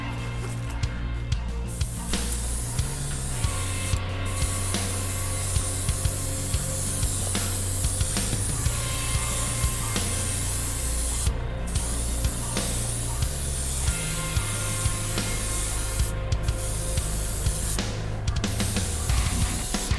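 Continuous close spray hiss from painting the secondary hull of a 1:350 scale Enterprise refit model, running almost unbroken for twenty seconds with only a few brief gaps.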